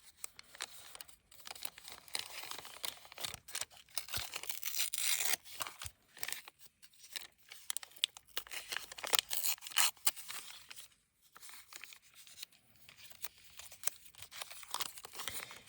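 Watercolor-decorated paper is cut into tags, with close, crisp crinkling and tearing-like rustles coming in irregular bursts and brief pauses, no voices.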